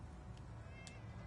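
Cat meowing in Fallout 4's Far Harbor, two short faint mews over a steady low background hum.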